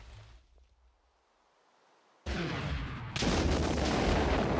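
Bombs in the video game Dragon Block C drop and explode. After a quiet start, a sudden loud roaring blast arrives, then a second, heavier rumbling wave of explosion noise that holds steady to the end.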